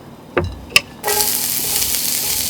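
Fresh garden onions go into a hot pan with a couple of sharp clatters, then break into a steady, close sizzle that holds for the rest of the moment.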